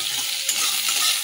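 Onion, garlic and green chillies being stirred in a little hot oil in a pan, a steady, bright sizzle that stays close and fairly loud, with faint scraping as they move.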